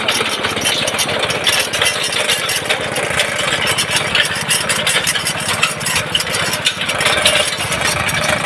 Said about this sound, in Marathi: इंजिन चालू आहे